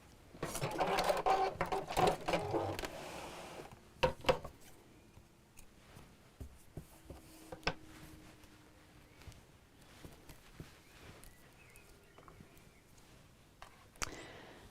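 A sewing machine runs a short back stitch on a rattan-handle bag, a dense burst of motor whirring and needle clatter for about three seconds, then quiet handling clicks and light taps.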